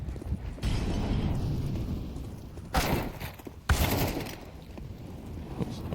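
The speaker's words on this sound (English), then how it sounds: "nice headshot from Fathom" Counter-Strike 2 gunfire during a competitive esports match, with rapid shots and two sharp, loud bursts standing out over a dense, continuous layer of game noise.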